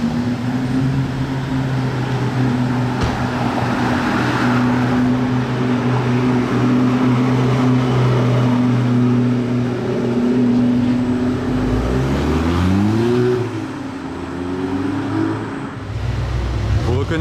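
Car engine droning steadily nearby, then shifting pitch as the revs climb and drop while the vehicle passes. Voices talk over the engine noise.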